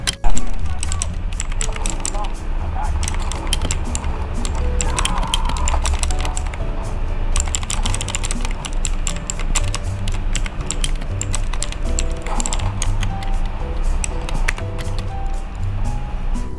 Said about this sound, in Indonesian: kita main game pakai keyboard ni macam mana bising dia